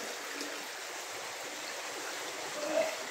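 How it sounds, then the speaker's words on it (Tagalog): A river flows beside a flooded garage in Candaba, Pampanga, a steady broad rush of moving water with a faint brief tone near the end. "Ito po yung ilog oh. Ayan po yung ilog."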